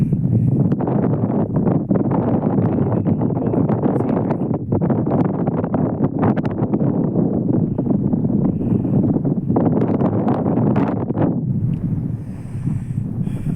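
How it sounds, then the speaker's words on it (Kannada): Gusty wind at a mountain viewpoint on Bisle Ghat rushes steadily across the microphone with brief louder blasts, loud and continuous, with no talking. "ಒಳ್ಳೆ ಗಾಳಿ ಹೊಡಿತಾ ಇದೆ"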